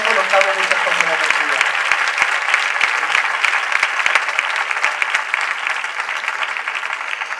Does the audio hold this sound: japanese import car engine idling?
no